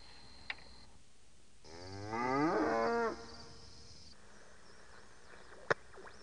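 A single drawn-out cow moo rises and falls for about a second and a half, fairly close and alone against quiet background hiss, with a couple of sharp clicks before and after.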